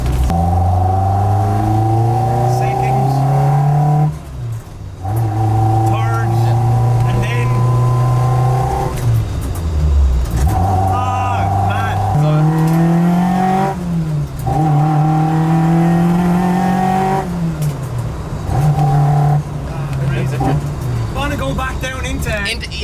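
A Toyota AE86 accelerates hard through the gears and holds fifth, its engine droning loudly inside the cabin with repeated revving climbs and brief drops at each shift, while people talk over it.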